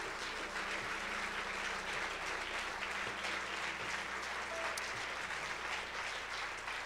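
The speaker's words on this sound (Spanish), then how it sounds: "Dale un fuerte aplauso al Señor" Steady applause from a church congregation fills the whole stretch, an even wash of clapping with no voices standing out.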